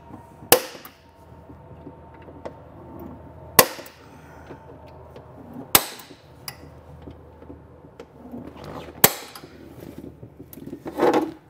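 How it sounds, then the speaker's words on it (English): Four or five sharp, ringing metallic taps from a small punch marking holes on a 2019 Ford F-150 for gooseneck wiring, spaced a couple of seconds apart, close by with faint shuffling in between. "I'm just going to use this little punch."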